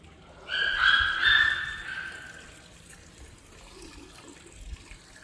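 Water splashes and runs briefly in a short burst onto a rooftop at home, then fades to quiet background.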